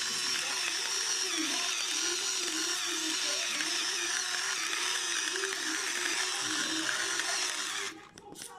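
A pepper grinder's steady gritty ratcheting grinds salt and black pepper over lentil köfte mix, close and continuous for several seconds before stopping abruptly.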